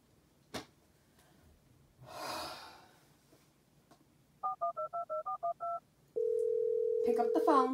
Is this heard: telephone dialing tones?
yes